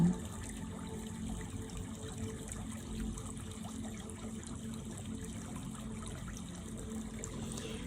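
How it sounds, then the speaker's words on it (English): Water flows near a beach in a soft, continuous trickle, faint and steady throughout with no voices over it. "hearing the beautiful sound from the water"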